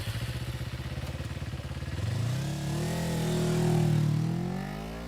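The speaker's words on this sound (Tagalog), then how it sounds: "sakay ng motor nito ay nagbiyahe kami papunta sa bayan" A motorcycle engine idles with a rapid, steady thumping putter, then revs up and pulls away with a rising, sustained drone, loud and close.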